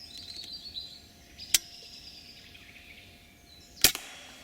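Two sharp, sudden cracks from an air rifle fired at a squirrel on a sunny morning, one early and one near the end, over soft outdoor ambience with faint birdsong.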